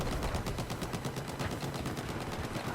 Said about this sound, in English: Me and this guy exchanged some fire. This is a firefight I normally wouldn't like to be in.